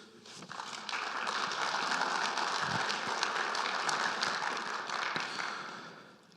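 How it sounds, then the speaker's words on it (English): Applause from a club meeting audience thanking the event volunteers, a broad steady patter of many hands filling the room at moderate level before fading out. "a round of applause."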